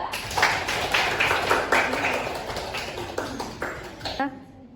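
A classroom of students claps for a presenting group, a dense burst of hand claps that thins out and fades near the end.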